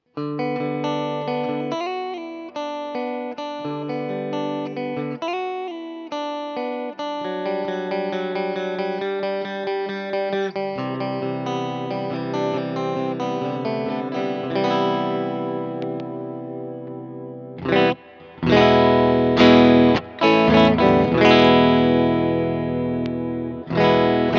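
A Fender American Professional II Jazzmaster electric guitar is played through its bridge pickup with the coil tap engaged, giving sustained ringing chords and notes with effects and distortion, then a burst of louder strummed chords near the end.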